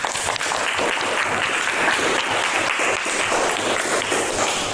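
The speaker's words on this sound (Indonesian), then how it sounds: "Kita beri tepuk tangan dulu." Classroom applause after a student's advertisement presentation, dense and continuous clapping from a group of students, loud and sustained for several seconds with no talk over it.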